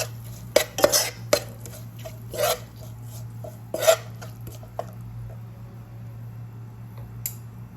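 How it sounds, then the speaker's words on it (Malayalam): Chilli powder masala being stirred in a pan for a plantain stir-fry, a few distinct metal scrapes and clinks of the spoon against the pan early on, then quieter scraping over a steady low hum. "ഈ പൊടിയുടെ പച്ച മണമൊക്കെ മാറുന്നവരെ നന്നായിട്ട് ഇളക്കി കൊടുക്കാം."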